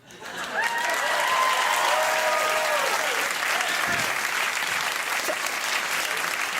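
A studio audience applauding and cheering at a comedy show, a dense, loud, sustained wash of clapping with a few whoops at the start that carries on evenly to the end.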